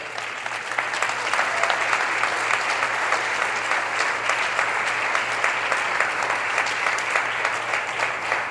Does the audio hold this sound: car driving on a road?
no